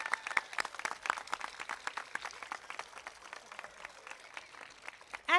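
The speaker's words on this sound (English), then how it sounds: "Can we please give them a round of applause?" An audience at an elementary school ribbon-cutting ceremony claps in moderate, steady applause with distinct individual claps throughout, ending in a brief louder burst.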